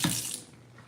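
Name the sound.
rinsing carrots under a kitchen tap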